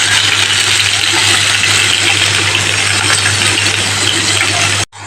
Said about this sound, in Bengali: মিষ্টি কুমড়ো আর আলুটাকে তেলের মধ্যে আমি একটু হালকা করে নেড়ে নিয়ে